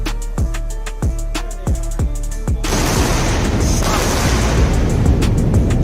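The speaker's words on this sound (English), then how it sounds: "Double sonic booms." Returning rocket boosters set off sharp, deep booms, several distinct thumps in quick succession followed by a long rumbling roar that swells and holds loud to the end.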